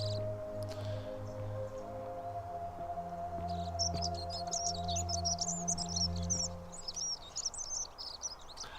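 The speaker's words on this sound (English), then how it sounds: "The birds are tweeting" Birds in the video game The Forgotten City chirp and tweet in quick, faint bursts over a steady low tonal hum of game ambience, with no talking.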